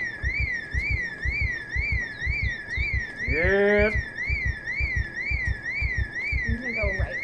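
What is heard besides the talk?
car alarm in video game Project Zomboid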